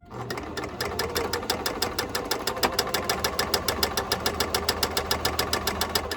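A sewing machine stitches fabric for a face mask, running a steady, fast rhythmic clatter of needle strokes close by, with a faint low hum underneath and no talking.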